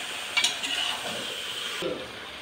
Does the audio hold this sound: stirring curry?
yes